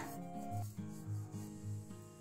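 A rolling pin presses masala paratha dough on a floured board in steady back-and-forth strokes, a soft rhythmic rubbing repeating about twice a second, close and quiet.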